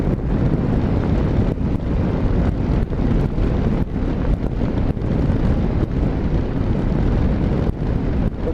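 Strong wind buffets the microphone in a constant loud low roar, with gusty rumbling fluctuations throughout and no voices.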